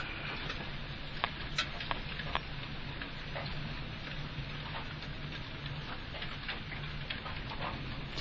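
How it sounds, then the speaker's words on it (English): Hail pelting down outside in a storm: a dense, steady hiss of pellets striking surfaces, peppered with sharper individual cracks and ticks, continuous throughout with no voices. "It's hailing outside."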